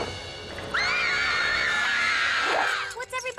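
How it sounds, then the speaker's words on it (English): In a cartoon monster scene, a long high wavering scream holds steady for about two seconds and then drops off, loud and close over a noisy background. "What's everybody screaming about?"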